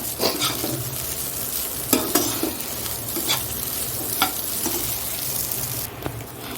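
Spice masala is stirred into frying jackfruit and prawn curry, making a continuous close sizzle broken by repeated scraping and clinking spoon strokes against the pan.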